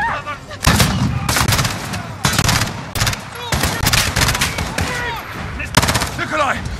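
Game gunfire from Call of Duty: Modern Warfare (2019) during a street chase: repeated loud bursts of rifle and automatic fire in clustered volleys, close and heavy, with shouted voices and battle chatter mixed in between shots.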